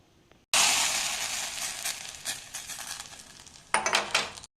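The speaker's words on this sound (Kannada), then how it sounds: "ಸಾರಿಗೆ ಒಗ್ಗರಣೆನ ಹಾಕೋಣ" Hot oil tempering with garlic and fried mustard seeds poured into holige saaru, bursting into a sudden loud sizzle that slowly fades, then a second sharp hiss flares near the end, no talk.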